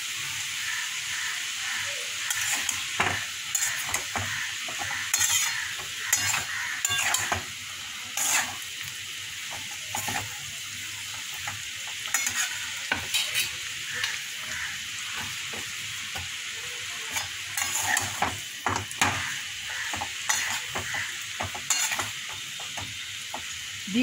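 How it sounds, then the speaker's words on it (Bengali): Day-old rotis and potatoes frying in a pan with dry red chillies and black cumin, a steady sizzle broken by repeated sharp scrapes and clatters of a spatula stirring, close up, without talk. "চলো তাহলে কালকের বাসি রুটিগুলো আলু দিয়ে ভেজে নিই।"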